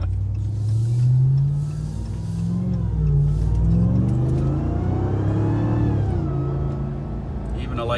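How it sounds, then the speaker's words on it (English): A Ram TRX pickup truck with a supercharged engine accelerates, its engine rumble climbing steadily with a thin supercharger whine rising over it, loud and close, while people talk inside the cab. "And a little bit of supercharger whine."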